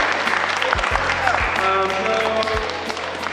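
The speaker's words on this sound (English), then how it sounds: "give yourselves a round of applause for your contribution as the community" A crowd at a fighting game tournament in South Africa claps steadily in sustained applause, a dense even patter throughout, with a few voices faintly mixed in.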